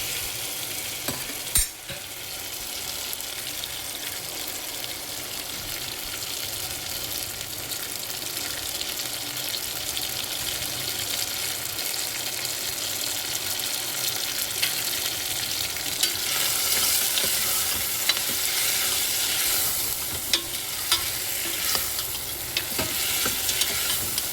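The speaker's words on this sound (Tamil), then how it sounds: "2 முட்டை பொரித்து போட போகிறேன்." Two eggs fry in hot oil for an egg curry, giving a continuous, close crackling sizzle that grows brighter and busier partway through, with a few sharp pops and no talking.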